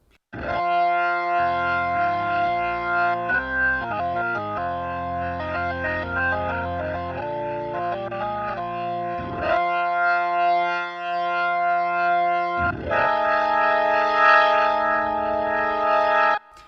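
Sustained chords on a Yamaha YC88 stage keyboard organ with gritty overdrive, held and shifting between voicings, loud and close with a swirling, chorus-like shimmer and no voices.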